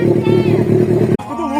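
A Jeep XJ four-cylinder engine roars loudly and steadily through a bare exhaust pipe with no tip, close up, then cuts off abruptly with a short quieter rumble after.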